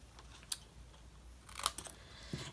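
Scissors snip through paper pieces for a papercraft box, a few faint, sharp cuts spaced apart in a quiet room.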